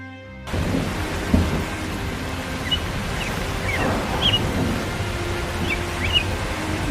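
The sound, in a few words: thunder and rain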